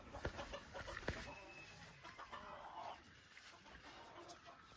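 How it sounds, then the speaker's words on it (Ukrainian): A fighting rooster clucks faintly amid a busy outdoor background of rustling and scattered noises, with no voices. "Це півень боєць."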